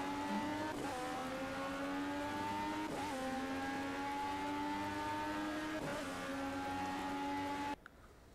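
Race car engine in the Project Cars video game, racing in a thunderstorm: a loud, sustained high-pitched whine that dips and climbs again at regular intervals as gears shift, cutting off abruptly near the end.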